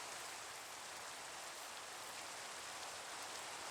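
Steady rain pouring down in a video game, a dense, even hiss of falling water with no breaks, moderately quiet and heard alone.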